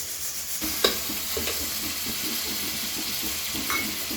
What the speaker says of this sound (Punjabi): ਚਲੋ ਇਹ ਹੁਣ ਮੈਂ ਤੁਹਾਨੂੰ ਤੜਕਾ ਬਣਾ ਕੇ ਦਿਖਾਉਂਦੀ ਹਾਂ